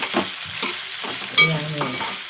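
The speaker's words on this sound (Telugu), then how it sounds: "ఇలా ఎక్కువ వేసుకొని బాగా వేగాలి ఎర్రగా." Onions frying in a pan for a tomato chutney, with stirring scrapes and soft crackling sizzle in short bursts, close and moderately quiet, no talk.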